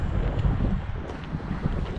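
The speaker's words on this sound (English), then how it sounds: "It's kind of windy out." Strong outdoor wind buffets the microphone in a continuous low rumble, with no pauses or talk across the short stretch.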